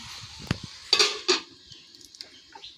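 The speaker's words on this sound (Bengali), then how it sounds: "আবারও কিন্তু আমি ঢাকা দিয়ে দেবো।" A lid is set on a cooking pot of potatoes and drumstick leaves, producing a few sharp metallic clanks and clatters up close, followed by quiet rattles.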